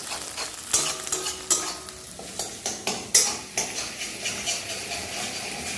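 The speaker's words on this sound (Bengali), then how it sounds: "তেলে পুরো লুচির মতো ভাজা করছে।" Food stirring and sizzling in a pan with plenty of oil, with a steady frying hiss and repeated scraping and clinking strokes of a spatula at an uneven rhythm, close by.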